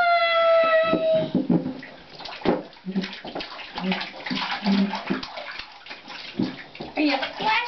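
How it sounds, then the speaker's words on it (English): Child splashing water in a bathtub, with irregular splashes and sloshing near the mic and an adult's voice talking between them. "Are you splashing? Splish splash."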